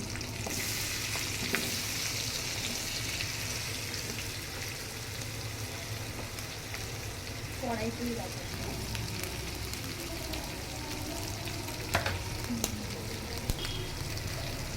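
Garlic, ginger, green chilli and chopped onion fry in a pan for paneer butter masala, a steady crackling sizzle throughout with occasional scrapes and clicks from stirring, close and unbroken by speech.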